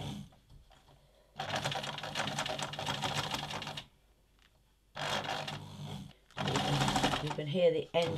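A 40-year-old domestic sewing machine stitching fabric in a home sewing room, running in two long bursts of rapid mechanical chatter separated by a short pause, then a third run at the end, loud and close with no talk.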